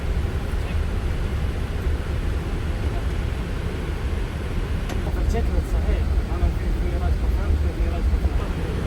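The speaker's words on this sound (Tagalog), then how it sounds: "Panoorin muna natin ang takeoff." An aircraft taking off from runway 33 right produces a loud, steady engine roar that holds for the whole stretch, with muffled voices under it.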